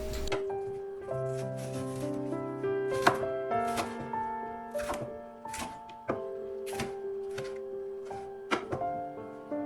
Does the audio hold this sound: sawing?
no